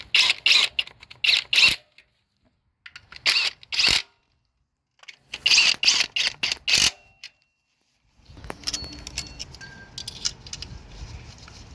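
A ratchet drives fasteners down during a spark plug change on a Toyota Camry 2.5L engine: three separate bursts of rapid metallic clicking with pauses between, followed by a duller, steady mechanical rustle.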